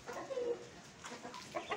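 A hen clucks softly in short, irregular bursts, fairly close, with a few louder calls near the end.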